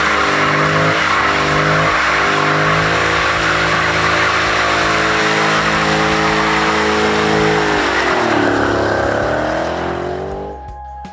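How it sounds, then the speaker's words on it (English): A Dodge Challenger SRT 392 with manual gearbox does a burnout, its engine roaring loud and steady with harsh tire squeal throughout, rising in pitch before fading out at the end. "Traction off, rev it up, dump the clutch, and boom, instant smoke show."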